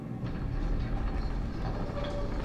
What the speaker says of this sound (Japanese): 月と桜の鍵を入れてオープンザドアしましょ